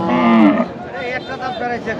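A Sahiwal cow at a cattle market gives a loud, close moo, followed by quieter lowing and murmured voices in the background.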